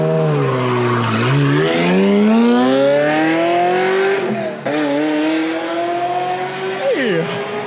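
A Ferrari F355 sports car engine with a manual gearbox revs up and climbs through the gears with a rising, high-pitched wail, close and loud, then drops as it shifts.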